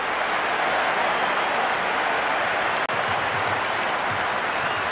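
Stadium crowd roaring in the Cricket 26 video game, a steady, even wall of cheering noise, with a brief dip midway.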